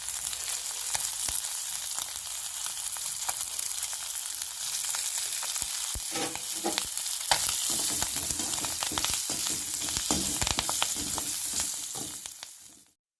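Fish sizzles and crackles steadily in a hot pan with curry leaves, a loud, continuous frying hiss with occasional sharper pops, fading out at the very end.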